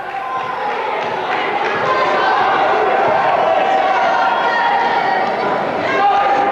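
A basketball crowd at a Scotland versus Ireland under-17 game roars for the Irish side, a sustained, loud wall of cheering and chatter that swells slightly near the end, with a commentator talking over it.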